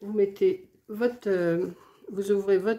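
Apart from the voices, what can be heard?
No distinct noise like a dog, phone or traffic.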